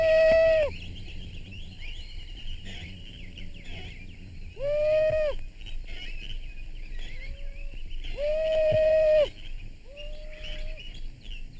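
Hunters in a jungle setting imitate the cries of birds and animals to draw game close, sounding as sustained whistled calls with wavering overtones that repeat in spaced bursts over a steady background of bird chatter.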